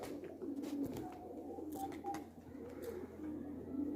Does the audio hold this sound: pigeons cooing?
yes